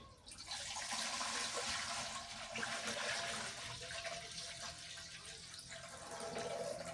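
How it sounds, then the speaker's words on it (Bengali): Water pours from a tap into a large wok for vegetable khichuri, a continuous rushing, splashing stream that holds steady for several seconds at a fairly soft level. "বড় কড়াই বের করে নিছি পানি দিয়ে দিই"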